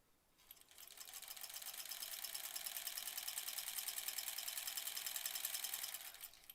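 Sewing machine stitching quilt blocks chain-style for a Splendid Sampler 2 quilt, a soft steady rapid needle rattle ramping up and running evenly for about five seconds before slowing to a stop, quiet and close.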